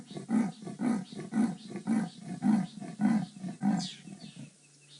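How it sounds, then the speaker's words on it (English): A female leopard roars while scent marking on safari, producing a rhythmic sawing series of about eight deep rasping grunts at an even pace, close and clear, fading out at the end. "That is a leopard's roar."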